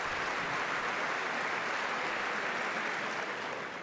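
Sustained applause from a large audience at a State of the Union address, a dense, steady wash of clapping that holds at an even level for nearly four seconds and tapers slightly at the end.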